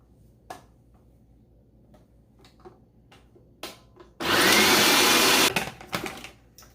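Food processor chopping zucchini for zucchini bread, a loud dense whirring burst of about a second and a half, with quieter clatter and knocks before and after.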